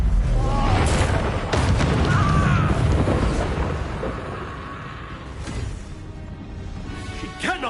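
A Confringo spell explodes in the Hogwarts Legacy video game, giving loud, rumbling booms and crackling blasts that roll on amid dense battle noise.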